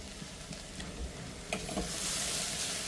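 Mixed vegetables with salt and plenty of coriander are stir-fried in a pan, a soft continuous sizzle with a few stirring clinks, the frying hiss swelling louder toward the end; no one speaks.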